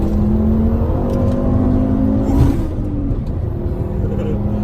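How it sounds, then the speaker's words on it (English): A turbocharged 300hp Fiat Coupe 20v pulls hard under acceleration as the turbo spools up, a loud droning rumble with rising whirring tones, heard from inside the vehicle. "when the turbo spools up,"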